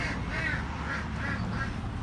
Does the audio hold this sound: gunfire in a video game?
no